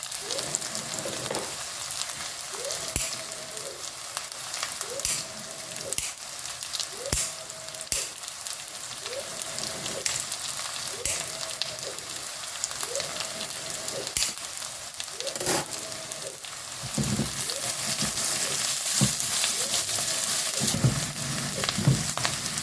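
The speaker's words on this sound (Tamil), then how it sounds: "வெங்காயம் நல்லா வதங்கி வரணும்" Onions sauté with dried red chillies in a pan, steady sizzling and frying, with occasional stirring scrapes and a faint repeating mechanical hum underneath, continuous throughout.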